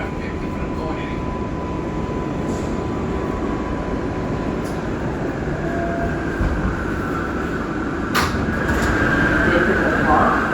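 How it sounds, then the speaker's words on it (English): Loud, continuous rumble of an IRT R142A 6 subway train in motion in New York, with a steady roar, occasional squeals and rattles, and a faint voice under the noise. "I'm on a train. Yeah, I'm on a train."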